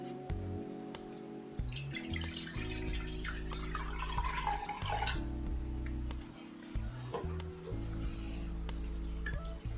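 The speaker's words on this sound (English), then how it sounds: "So now I'm going to be transferring our phase B ingredients into a mixing bowl or a beaker." Liquid phase B ingredients for a turmeric body butter, including glycerine, drip and trickle into a mixing bowl or beaker, soft and intermittent beneath steady background music.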